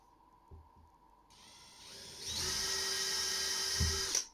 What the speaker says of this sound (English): Drill those pilot holes.